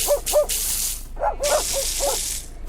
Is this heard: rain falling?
no